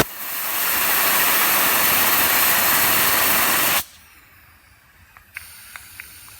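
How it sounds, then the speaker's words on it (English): Compressed air spinning a part from a Gravely L8 tractor, a loud steady rushing hiss that lasts several seconds, then cuts off abruptly and leaves quiet with a few small clicks. "just taking compressed air and spinning"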